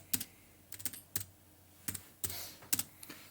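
Keys typed on a computer keyboard while entering a prompt in Scratch, heard as short bursts of a few quick clicks separated by pauses, close and fairly quiet, with no talking.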